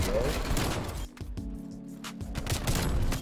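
Shotgun fire in Black Ops Cold War, several loud blasts in quick succession with a short lull in the middle, mixed with game noise and a voice talking over it.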